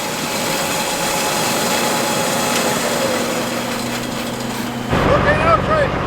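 Grain auger running empty on a farm, a steady mechanical whirring and rattling drone close by that continues throughout, with a brief shift in tone near the end.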